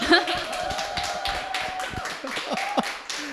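A church audience gives louder, scattered applause and cheering, with individual claps standing out over a sustained tone, and voices and a chuckle mixed in.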